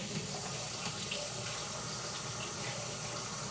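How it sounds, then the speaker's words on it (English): Tap water runs steadily into a kitchen sink while a dessert utensil is rinsed off, a close, continuous hiss and splash with no talking. "I'm going to rinse this off."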